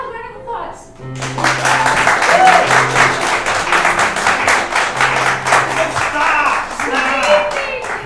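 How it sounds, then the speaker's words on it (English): A live improv comedy show audience breaks into loud, sustained applause with some cheering, starting after a brief moment of quieter sound and continuing steadily throughout, with a tonal hum and voices mixed underneath. "Wild round of applause."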